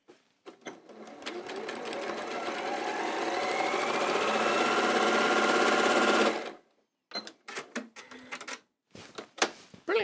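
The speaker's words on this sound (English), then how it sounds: "I think all of you are okay with sewing long seams like this." Sewing machine stitching long quilt block seams, a fast steady whirring run for about six seconds that gradually gets louder, then stops, followed by a few short clicks and handling sounds, close and clear with no talking.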